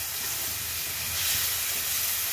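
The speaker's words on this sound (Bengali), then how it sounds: "এবার আমি রসুনটা আর পেঁয়াজটা দিয়ে দেবো।" Garlic and onion sizzle in a pan with mushroom and prawn: a steady, close, even hiss that swells slightly midway and carries no talk.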